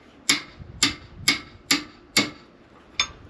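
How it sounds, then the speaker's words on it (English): A 22mm wrench tapping a heater hose fitting on a 1999 Ford Ranger 3.0L, six crisp metallic taps at an even pace, close and clear, with no speech. "I'm just going to use the same 22mm wrench and just give it a couple taps this direction."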